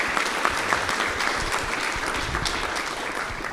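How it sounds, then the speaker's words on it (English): A crowd applauds steadily, a dense wash of clapping that continues without a break. "Well, let's give Jeff a round of applause for spending the time."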